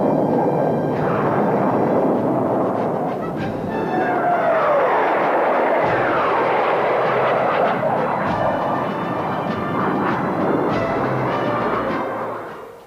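A loud, rumbling roar of aircraft over Edwards in the Mojave Desert fills the air continuously, with a rising whine passing through and the noise fading slightly at the end.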